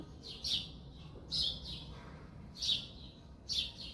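Small birds chirping in a home garden among roses, tomato plants and flowers, four short bright bursts of tweets spaced about a second apart over a quiet background, with no talking.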